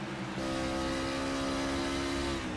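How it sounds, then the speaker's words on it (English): The number 88 car in a sim racing game, heard onboard as a steady, loud engine drone with a sustained tonal hum that holds an even pitch throughout, no voices over it. "Going to go on board with this number 88 car here."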